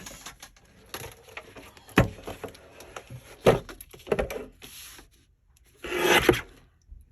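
Paper card stock being trimmed for a handmade mixed-media greeting card gives sharp cutting snaps and short rasping slices, spaced irregularly, ending in a longer scraping pass.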